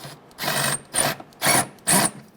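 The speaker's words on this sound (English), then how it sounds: "with an 8mm socket, we're going to tighten down" A socket tool tightens a bolt on the idle air control valve of a 2003–2011 Honda Element, heard as four short, close mechanical bursts separated by brief pauses.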